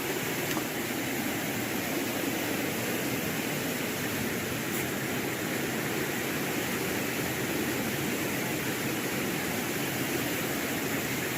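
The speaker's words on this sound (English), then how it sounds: "here's where I can hear the main water coming through" Strong main water current rushing out from under a red brick building, a steady, broad, unbroken roar of flowing water, close and constant with no break.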